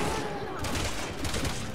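Gunfire in the PC game Resident Evil 6 during Leon's campaign, a dense burst of rapid shots with a busy, noisy texture at moderate loudness, short and continuous.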